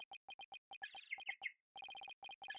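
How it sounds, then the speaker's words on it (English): A phone ringtone in the video game Apollo Justice: a quick pattern of short, bright electronic beeps in rapid bursts, broken by a chirpy warbling phrase, all clean with silence between the notes. "That's my ringtone."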